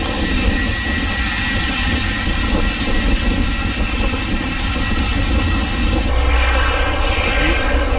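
A Nigerian Airways airplane coming in, its engines a loud, steady droning roar, close and sustained throughout, with a slight shift in tone near the end.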